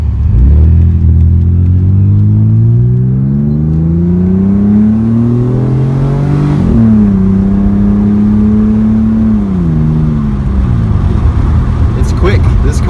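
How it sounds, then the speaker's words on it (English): Exhaust of a 1998 Chrysler Sebring Coupe LX accelerating, heard from inside the car as a loud, steady engine drone that climbs in pitch through the gears, dipping at each shift change before rising again. "The exhaust sounds really good. It gives you a good feel of how fast you're going"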